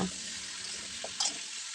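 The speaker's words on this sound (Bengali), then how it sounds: "দেখুন আলু এবং কুমড়ো অনেকটাই ভাজা হয়ে গেছে" Potato and pumpkin pieces frying in a pan for a pumpkin chhokka, a quiet, even sizzle with a couple of brief stirring clinks and no talking.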